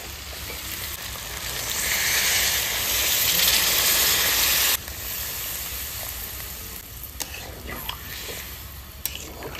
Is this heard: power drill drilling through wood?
no